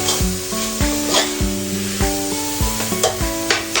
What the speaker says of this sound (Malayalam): എന്നിട്ട് നല്ലവണ്ണം ഒന്ന് ഇളക്കി കൊടുക്കുക.